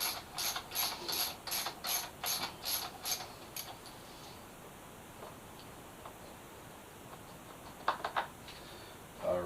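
A hand ratchet clicks in quick bursts while backing out a bolt on a Suzuki GSX-S 1000F motorcycle, close and fairly quiet, then pauses before a few more clicks near the end.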